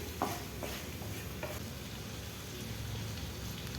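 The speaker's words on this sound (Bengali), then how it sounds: "প্রথমে স্টোমাকটাকে সুন্দর করে কষিয়ে নিতে হবে" Chicken stomach being sautéed and stirred in a pan for a spiced masala, a constant low sizzle with occasional soft clicks of the spoon against the pan.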